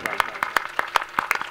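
An audience at a devotional gathering claps in a fast, steady rhythm of sharp, close hand strikes, with some voice underneath.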